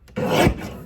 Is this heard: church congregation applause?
no